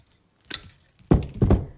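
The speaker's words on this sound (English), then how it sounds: "I'm gonna cut part of that off" Scissors snip part off a rusty can craft piece, a light metallic click followed by two firm, close cutting crunches in quick succession.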